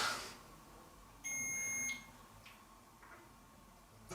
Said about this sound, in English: Can you make that beep once?